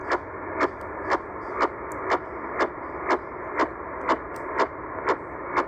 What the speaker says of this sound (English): Basically, it's a radar signal that is used on the coast,